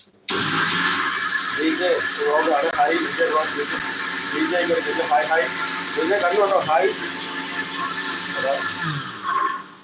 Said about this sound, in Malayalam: പഞ്ചസാര നമുക്കിതാ ഒന്ന് നമുക്ക് മിക്സിയിൽ വെച്ചൊന്ന് അടിച്ചെടുക്കാം